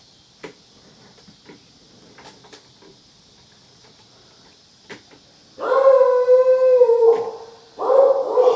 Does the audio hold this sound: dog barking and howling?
yes